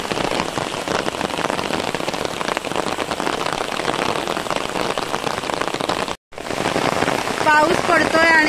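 Steady rain pours in the Konkan countryside, a dense continuous hiss with a brief dropout near the end before it resumes, joined by faint chirping at the close.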